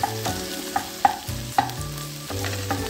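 Onion and garlic sizzle in a hot pan while a utensil stirs and scrapes, with a few sharp clacks against the pan.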